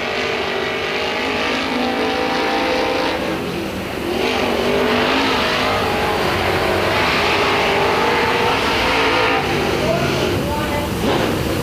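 A late model race car roars around Crossville Raceway in a dense, continuous engine drone that rises and falls as it laps, with an announcer talking over the noise throughout.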